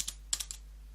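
A few quick keystrokes tap on a computer keyboard while entering a command, crisp close clicks in a short irregular burst over a quiet background.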